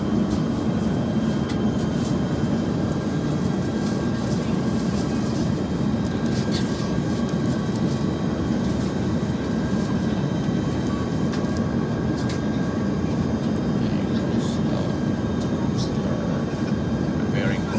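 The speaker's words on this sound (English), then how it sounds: "Anytime soon, the plane will be landing." Airplane cabin noise on a flight descending into Frankfurt, Germany: a dense, steady engine and air roar fills the cabin evenly throughout, with no break in the drone.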